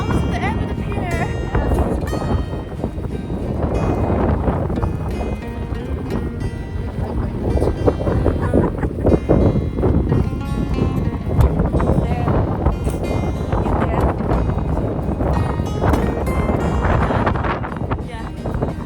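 Cold, strong wind blasts steadily across a beach pier on a windy morning, roaring and buffeting the microphone nonstop, loud and close, with faint voices underneath.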